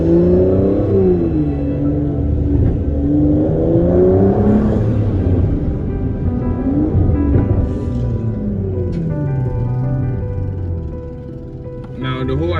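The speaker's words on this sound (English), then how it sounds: "The pops and bangs in sports class is really just amazing." A 2023 Aston Martin DBS 770 Convertible revving on the move, the engine note rising and falling with a few sharp exhaust pops near the end, heard beneath someone talking throughout.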